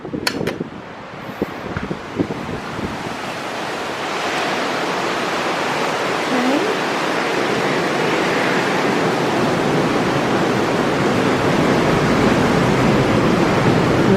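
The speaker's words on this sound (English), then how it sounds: "Just a rinsing off shower." Steady hiss of a thermal spa rinsing shower pours continuously, broad and close, after a few brief knocks and clatters at the start.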